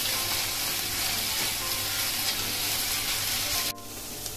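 Níscalos (saffron milk cap mushrooms) sautéed in a pan, stirred constantly, giving a steady, close, dense sizzle that runs unbroken and then drops to a quieter hiss near the end.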